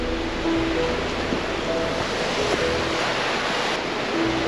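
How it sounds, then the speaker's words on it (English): The brook in Padley Gorge, heard from close by near a bridge, makes a constant loud rushing of water that fills the whole stretch without a break. "it gets another opportunity to show off the brook, and we get real close to it now."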